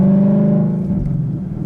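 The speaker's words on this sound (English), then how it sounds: "it's definitely hard to talk with this loud exhaust" 2015 Ford Mustang GT with a loud exhaust, a deep steady engine drone close by that eases slightly toward the end, with no talking over it.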